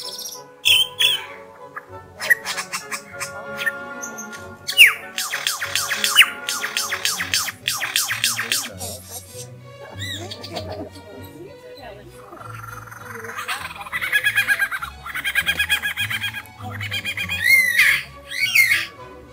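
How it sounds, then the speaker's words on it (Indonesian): Lyrebird singing an intricate song of rapid, varied calls: sharp squawks, whistles, trills and rattling notes in quick bursts, fairly close and loud, with no voices heard. "seperti burung lyre ini."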